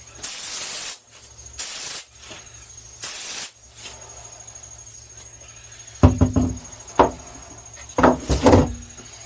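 Spray foam insulation jets out of a gun inside a DIY truck camper build, three loud hissing bursts of about a second each over a low hum, followed by scattered knocks and clatter.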